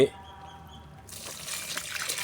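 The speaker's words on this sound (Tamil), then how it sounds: "இது பெரிய செடியாக இருக்கிறனால இங்கே பாருங்கள் ஒரு கப்பு ஊற்றுறோம்" Liquid fertilizer poured onto a large garden plant from a cup: a soft trickle and splash starts partway through, quiet and close, following a brief faint voice at the start.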